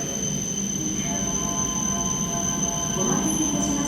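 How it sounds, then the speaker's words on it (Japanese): A Tohoku Shinkansen Hayabusa H5 series train arrives at Hachinohe Station, a steady loud rumble of rolling wagons with faint wheel squeal over a continuous platform hum, no speech. "13番線に到着の電車は14時14分発はやぶさ19号新青森行きです"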